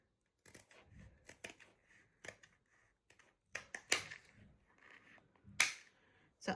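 Scissors snip through a thicker ribbon strip for a cheer bow, giving a series of sharp, close, irregular clicks and crisp cuts in a quiet room with no talking.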